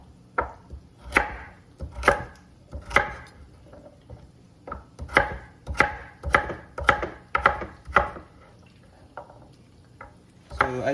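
A knife chops carrots steadily on a cutting board, sharp crisp strikes coming in quick bursts with short pauses, close and clear with no talking.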